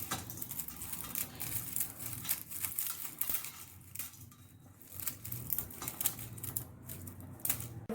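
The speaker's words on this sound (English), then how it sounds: "We need to cut this into small pieces." A knife chops dry China grass (agar agar) into small pieces, an irregular run of crisp snipping and tapping clicks up close, fairly quiet with soft rustling between cuts.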